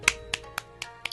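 Five quick, sharp claps spaced evenly apart ring out in a game scene, each one short and crisp against a quiet background.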